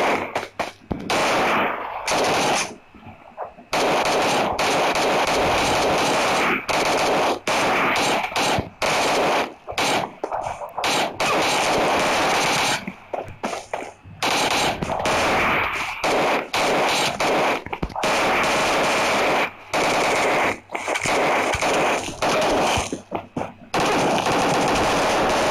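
Dense, continuous bursts of automatic gunfire from the PUBG battle royale video game, with rapid rattling volleys and brief pauses running loud and close throughout, with no talking.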